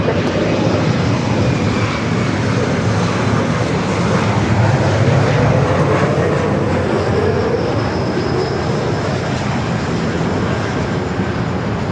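A heavy Airbus A350 jet departs from runway 24 right at Los Angeles airport, a loud, steady, broad engine roar that holds throughout with no voices.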